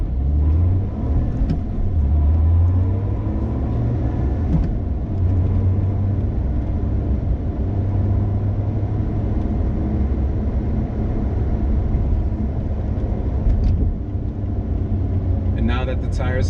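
A 2020 Lotus Evora GT pulls away from a green light, its engine a steady loud low rumble heard from inside the cabin, rising slightly, while the driver talks over it.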